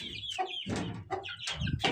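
Several roosters cluck close by, a quick run of short, throaty calls with brief pauses between them.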